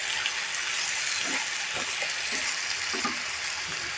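Hog plums cook down in melting sugar into a caramel, making a soft steady sizzle and bubbling hiss with occasional stirring scrapes, close by and without speech.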